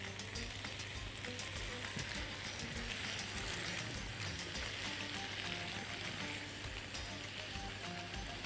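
Potatoes fry in a hot pan for a cheese potato stew, giving a steady, dense sizzle that continues without a break, close and fairly quiet.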